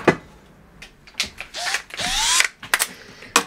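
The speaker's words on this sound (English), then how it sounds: "So I think if you're going to use a hand drill," Short bursts of a hand drill whir on and off, spinning up briefly between clicks and handling noises, close by, while assembling a 3D printed CNC machine.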